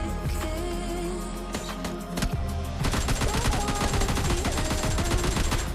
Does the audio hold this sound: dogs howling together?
no